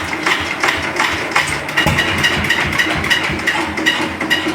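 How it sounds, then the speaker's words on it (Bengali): An L32 engine cranking and starting, loud and close, with rapid mechanical knocking and clattering that runs throughout. "L32 ইঞ্জিন, একটু জোরে মারতে হবে প্রথম স্টার্ট"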